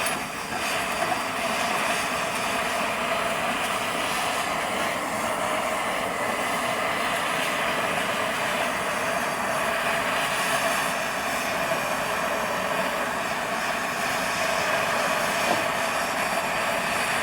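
A torch roars steadily while melting lead body filler off a 1959 Cadillac, a loud, continuous broadband rush lasting throughout with no pauses and no voices.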